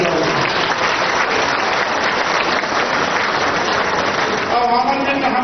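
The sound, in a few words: audience applause welcoming Chaudhary ji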